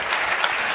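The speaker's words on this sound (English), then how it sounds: "Please round of applause for this incredible car." Audience applause greeting the unveiling of the Alpine A522 Formula 1 race car for the 2022 season, a short dense burst of clapping filling the room.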